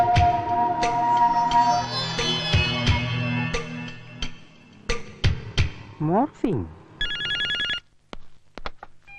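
A telephone rings with bright repeated bell trills, loud and close, broken up by bursts of talk and comic sound effects in a Malayalam comedy scene.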